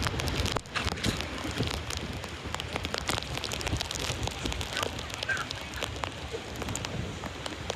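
Heavy monsoon rain pours at Pirwadi beach in Uran near Mumbai, a dense, steady hiss of drops striking surfaces close by that continues without a break.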